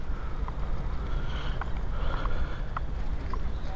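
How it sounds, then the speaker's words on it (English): Steady engine drone of a large boat arriving at The Groves in Chester, with wind and water noise, a few faint knocking clatters over the continuous rumble, no talking. "There's a boat just come in, later down,"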